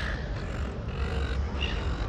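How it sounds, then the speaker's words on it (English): Crows caw several times at a distance outdoors, where people are feeding birds. The harsh calls come in short bursts over faint ambient background noise. "You can hear the birds."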